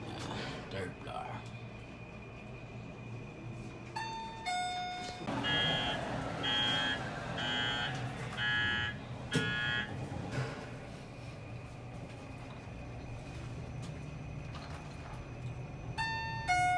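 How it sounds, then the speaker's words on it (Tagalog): An electronic buzzer pulses in a burst of repeated short tones inside a building in McKinley, set between short chime-like beeps at start and end, fairly faint, with people talking nearby. "Yung parang alarm."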